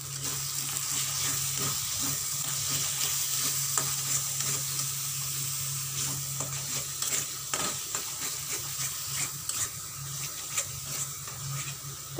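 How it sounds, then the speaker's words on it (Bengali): Food frying in a pan, stirred with a spoon, producing a continuous sizzle broken by repeated scraping and tapping strokes, close and fairly loud with no voices. "তো এটাকে আবার নাড়িয়ে নিই"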